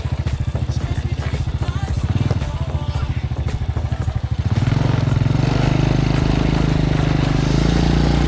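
A 2000 Honda Supra motorcycle engine runs loud and close, its rapid putter steady before the pitch deepens into a heavier, louder drone.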